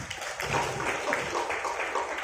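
Audience applause at a motivational training session in Aceh, a steady wash of many hands clapping at moderate, slightly distant volume with no voices over it.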